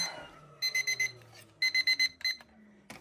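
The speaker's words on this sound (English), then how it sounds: "Let's switch that annoying timer off." A kitchen timer alarm beeps in two bursts of rapid, loud electronic pulses, a quick run of beeps followed by a pause and a second run, heard close up in a quiet room.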